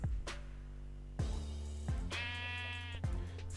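Sheep in the Minecraft video game bleating in a quick series of about four loud, close, nasal calls, one after another with no talking.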